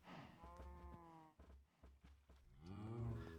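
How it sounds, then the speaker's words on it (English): Cows on a cow farm in the Minecraft GTNH modpack moo several times in a row, drawn-out low calls near the listener with short gaps, and the last moo is the loudest. "There is a cow noise coming from my game because I am directly into my cow farm."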